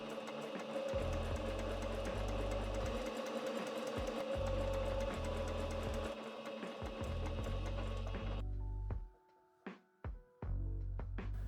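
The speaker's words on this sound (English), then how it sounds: "We actually get to sew now." Domestic sewing machine stitching patchwork fabric panels, running in repeated bursts with a steady mechanical whir, then stopping briefly near the end with a few short clicks and restarts; no speech.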